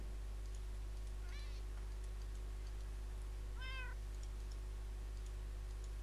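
Cats in the Minecraft video game give two short rising meows a couple of seconds apart, faint over a constant low electrical hum and steady background hiss.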